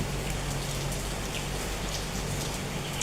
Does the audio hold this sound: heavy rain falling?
yes